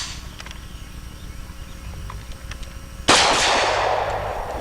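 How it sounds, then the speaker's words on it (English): A carbine chambered for a 460 cartridge fires a single sharp, loud shot outdoors, followed by a decaying echo after quieter background sounds. "even in the carbine that shoots our great 460 cartridge,"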